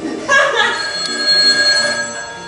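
A telephone rings with a steady electronic tone that lasts throughout, fairly loud and close, with no talk over it.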